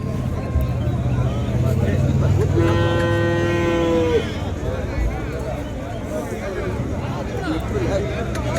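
Cattle at a rural native cattle market where bull calves are traded: a single loud moo rises over a busy background of crowd chatter and general market bustle, with people talking throughout.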